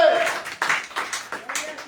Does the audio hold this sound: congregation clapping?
yes